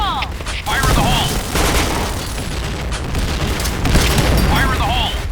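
Grenades exploding in a multiplayer shooter game on the map Sandstorm, several loud booming blasts with gunfire between them, close and dense, while players shout over the noise.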